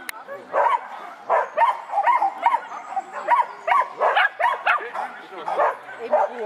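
Dogs barking, a rapid run of sharp barks and yips at mid distance, with some whimpering mixed in.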